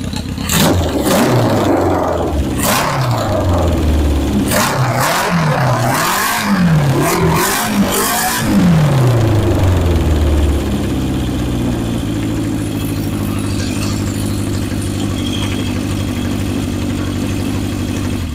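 A 1977 Honda CB750 chopper motorcycle engine runs loud and close, blipped through several sharp revs that rise and fall before settling into a steady, rumbling idle.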